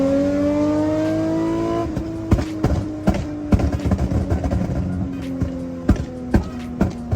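An Infiniti G35 accelerates hard, its engine note climbing and then breaking into sharp pops and bangs from the exhaust, close and loud with no talking.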